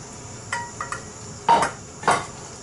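A cooking pot is lifted and handled in a home kitchen while preparing fried lagman, giving a few separate metallic clanks and knocks, two of them louder, with quiet gaps between and no talking.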